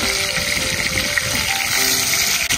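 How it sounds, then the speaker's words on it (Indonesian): Chicken, about half a kilo, frying in a pan in a village kitchen in rural Romania, giving a steady, close hiss of bubbling oil that holds evenly throughout with no talk. "Kita goreng ayamnya."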